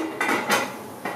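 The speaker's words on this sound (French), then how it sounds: "De temps en temps, remuer, comme je fais là, afin que le poisson ne colle pas dans la marmite" A few quick metallic clanks of a utensil against a cooking pot while stirring fish stew, three short knocks in about a second, close and clear.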